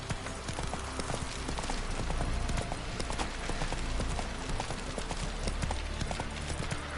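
Roach, the horse from The Witcher 3, trots with steady, rapid clip-clopping hooves over a dense, continuous ambient bed of game sound.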